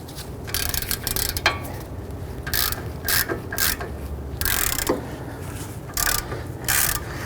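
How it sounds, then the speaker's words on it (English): Socket ratchet clicking and rubbing in short bursts while loosening 18mm brake caliper bracket bolts on a 2011-2019 Ford Explorer, close and fairly loud, with brief pauses between bursts. "Using an 18mm socket, we want to go ahead, loosen these bolts"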